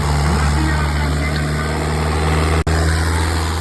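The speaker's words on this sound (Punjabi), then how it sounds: "ਇੰਡੋ ਫਾਰਮ ਦੇਖਣਾ ਟਰੈਕਟਰ ਦਾ ਜ਼ੋਰ ਚੈੱਕ ਕਰੋ ਸੱਜਣੋ ਕਿੰਨਾ ਜ਼ੋਰ ਮਾਰਦਾ" An Indo Farm tractor engine runs loud and close in a steady, deep droning hum that holds even, broken only by one sharp momentary dropout.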